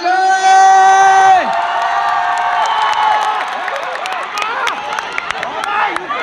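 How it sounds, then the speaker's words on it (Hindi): A large crowd at a Statehood Day celebration in Arunachal Pradesh claps and cheers loudly, sustained applause with whoops following a held musical tone. "फिर से एक बार जोरदार तालियां बजाएं"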